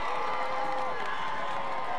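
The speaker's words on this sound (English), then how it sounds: "Here comes the Card crowd" A home Cardinals high school football crowd at a game against Belle Plains cheers and shouts in a steady, moderately loud roar with scattered clapping and yells.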